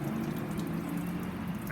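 Water poured from a watering can over a 2012 Volkswagen Golf to mimic rain for leak detection, a steady close splashing wash with a low rumble underneath, continuous and unbroken throughout.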